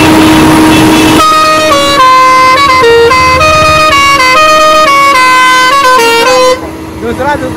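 A Bajarang 6-pipe, 50-tone air pressure horn on a vehicle blares a stepping melody, loud and close, with sustained notes changing pitch before cutting off near the end.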